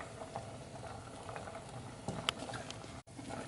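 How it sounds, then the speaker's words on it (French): Tomato sauce in a pan boils while pasta cooks, a faint, steady patter of small bubbles popping close by. "Maintenant, il faut porter à ébullition et baisser la chaleur."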